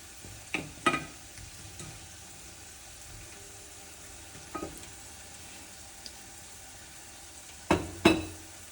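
Potatoes frying in oil for patatas bravas in a small kitchen, a quiet steady sizzle broken by a few sharper bursts of spitting and pan movement.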